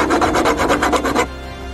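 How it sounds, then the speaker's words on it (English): Steel being ground off a stainless steel part from food-industry machinery, a rapid rasping grind pulsing in quick strokes at close range for over a second before cutting off to quiet background. "So here we go, we grind off."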